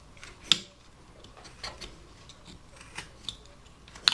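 Knife cutting into wood while carving a relief hiker figure, heard as scattered short, light snips and ticks with a sharp nick near the start and end, close and quiet.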